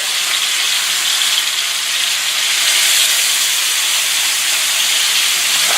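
Elk steak searing in a hot pot, a loud, steady broadband sizzle and hiss that holds without a break from start to finish, close up, with no talk over it.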